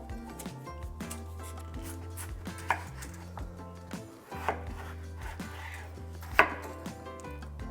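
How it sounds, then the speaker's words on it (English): Peeled potatoes being cut into cubes with a knife, steady rhythmic chops against a board with a few sharper knocks, close up over faint background music. "We start with peeling the potatoes and we'll then cut into cubes."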